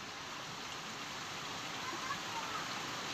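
Steady rain pours outdoors near a house, an even dense hiss that holds at constant loudness throughout with no distinct drops standing out.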